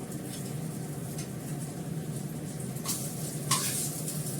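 Eggplant slices frying in deep oil, giving a continuous close sizzle with scattered crackles and a couple of brighter pops near the end.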